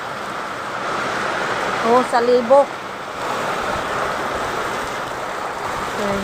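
Strong wind driving rain produces a continuous rushing roar, while voices talk briefly in the middle and again near the end.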